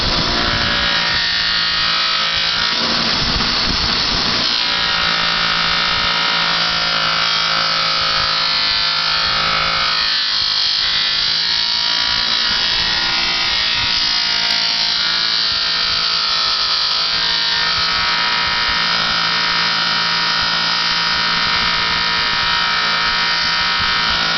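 A steady high-pitched mechanical whine of a motorized buffing wheel runs continuously, with grinding surges as an aluminum motorcycle part is pressed against it.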